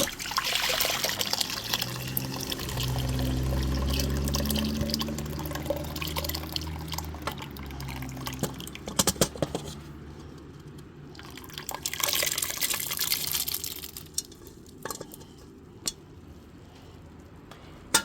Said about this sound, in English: so I'm just gonna pour it in my pot